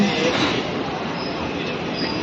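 Steady rumble of a train at Dhola Junction railway station in Gujarat, with a broad rushing roar and faint high squeals, continuous throughout the short stretch.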